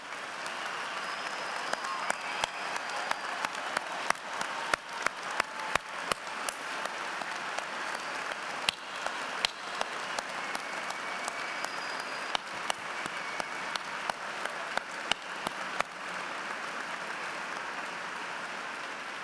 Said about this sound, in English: please stand up so we can give them a round of applause